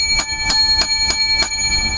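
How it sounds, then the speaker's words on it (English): Seven bells ring out one after another in a steady, evenly spaced rhythm, each strike bright and clear, ringing up close and alone. "seven bells, seven lucky number bells for the show"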